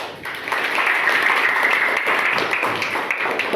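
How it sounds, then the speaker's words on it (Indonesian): A fifth-grade class claps for a student group, a dense burst of applause that starts quickly and carries on steadily, fairly loud and near, with no talk over it. "mari kita beri aplaus"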